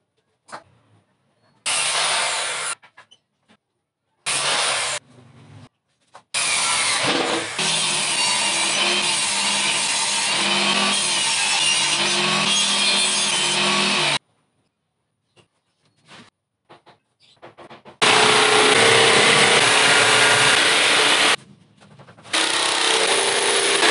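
A power saw running along a table saw fence cuts particle board in several long bursts, each a loud, harsh, close grinding whine that starts abruptly and stops, separated by short quiet gaps and handling noises.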